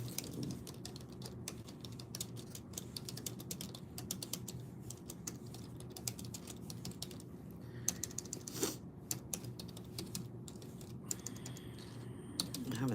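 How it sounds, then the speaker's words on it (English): Computer keyboard typing runs in quick irregular bursts of clicks over a low steady hum, fairly quiet and close, with pauses and a cluster of sharper keystrokes near the end. "Having typing problems this morning."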